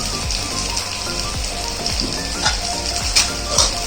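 Squid pieces added to an onion-tomato masala sizzle loudly in the pan, a steady frying hiss with repeated soft thumps and scrapes of stirring, close up and with no talking.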